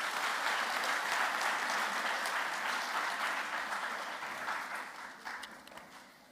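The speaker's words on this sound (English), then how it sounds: "Please give her a big round of applause." Applause from an audience at an evening performance, a full wash of many hands clapping that gradually thins and fades toward the end, with no voices over it.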